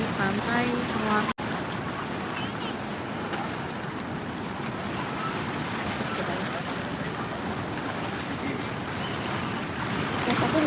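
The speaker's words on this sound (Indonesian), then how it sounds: "Suasana pagi di pantai Sawar." Morning ambience at Sawar beach, with a steady wash of waves and wind noise filling the scene and a brief dropout near the start.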